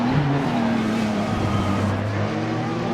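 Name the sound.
race car engines passing, Group C Nissan, racing video game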